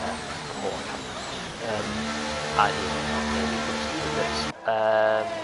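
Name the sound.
race car crossing the line in a racing video game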